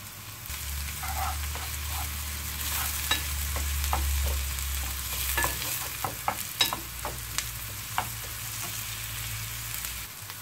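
Chopped onions, green pepper and garlic sizzle in a pan for a pizza topping, a steady low fry broken by repeated sharp scraping and tapping strokes from a utensil stirring the pan toward the end.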